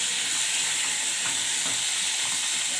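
Potatoes and leafy green stems fry in hot oil with black cumin seeds, giving a close, steady sizzle and hiss, with faint stirring scrapes now and then.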